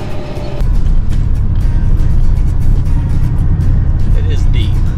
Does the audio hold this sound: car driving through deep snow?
yes